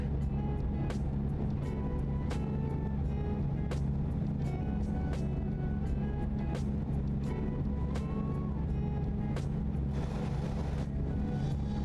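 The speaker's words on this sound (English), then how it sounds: "I can easily hear the truck noises" Truck engine in American Truck Simulator, a steady low drone of the motor running continuously, with regular sharp clicks or ticks recurring every second or so over the hum.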